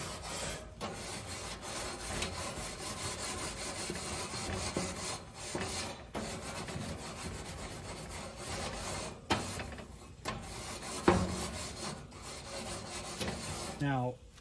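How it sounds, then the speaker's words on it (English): A cleaning tool scrubs neglected, cold grill grates in steady, gritty back-and-forth rasping strokes, close and continuous, with a few brief pauses between passes. "this is actually doing a really good job of cleaning off those grates"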